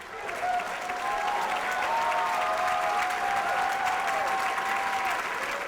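A live audience at a debate tournament awards ceremony bursts into sustained cheering and applause, with loud clapping and whoops that hold steady throughout.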